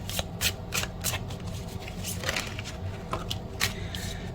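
Tarot cards are shuffled close by, with continuous papery riffling and soft slapping flicks as cards slide and are drawn.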